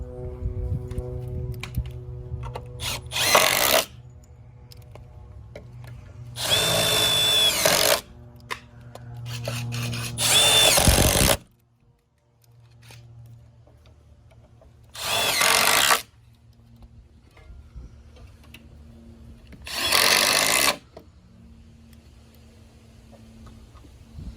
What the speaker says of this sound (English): We're going to use these SDS structural hanger screws.